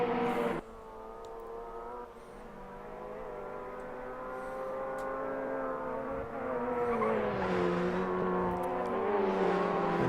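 Touring race cars in a sim racing video game accelerate around a circuit, their engines whining in a continuous, close drone that climbs steadily in pitch and loudness, with no talking.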